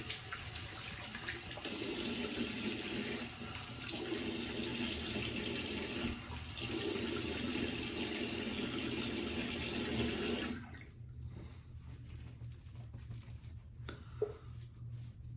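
A bathroom tap runs steadily into a sink for about ten seconds as someone rinses after a shave, a close, continuous rushing hiss that then cuts off, leaving faint drips and small handling sounds.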